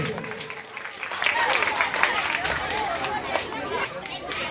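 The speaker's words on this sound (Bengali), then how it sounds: "জোরে হাততালি" Audience applause at a school annual event, a broad patter of clapping rising after a second and holding steady, mixed with crowd chatter and voices throughout.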